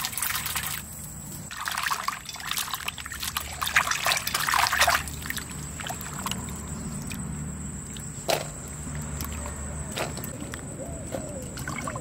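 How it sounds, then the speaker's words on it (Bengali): Moushim greens and potatoes are rinsed in clean water in a bowl, giving a close splashing and sloshing burst early on. A softer trickle and occasional drips follow, with one sharp knock partway through. "আমি আবার ভালো পরিষ্কার জলে ধুয়ে নিচ্ছি।"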